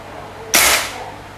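A single sharp crack from an Emperor PCP air rifle fired in semi-auto mode, loud and close, with a short decaying tail against a quiet background.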